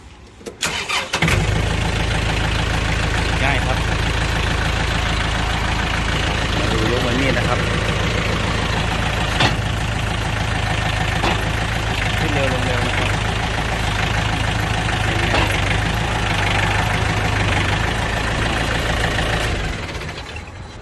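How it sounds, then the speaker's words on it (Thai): A Yanmar 51 hp tractor diesel engine cranks, catches and settles into a loud, steady idle heard up close for about twenty seconds, with someone speaking intermittently over it. "เดี๋ยวฟังเสียงเครื่องยนต์ดูนะครับ"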